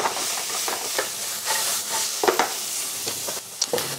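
Chopped carrot pieces frying in a pan as the start of a tomato sauce, giving a steady close sizzle with occasional stirring scrapes and clicks throughout.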